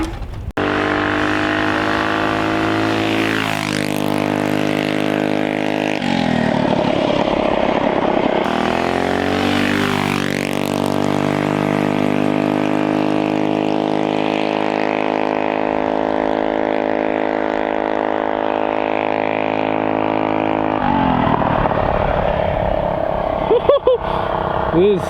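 Car fitted with a Juggernaut torque converter accelerating hard and loud, its engine note climbing steeply through several gear changes with brief dips between the pulls.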